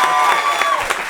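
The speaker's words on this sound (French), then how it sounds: "Ça s'applaudit s'il vous plaît." A short, loud burst of crowd applause with some cheering, steady clapping filling about a second.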